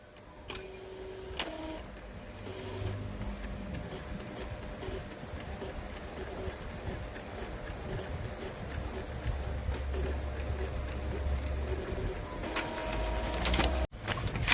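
An Epson L3110 inkjet printer runs a test print after its pump is replaced, giving a steady mechanical whir with rhythmic ticking of the print head shuttle, close by, ending in a brief clunk.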